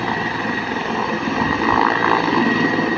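A helicopter at a market area readying for takeoff gives a loud, continuous whining engine and rotor drone that swells slightly partway through.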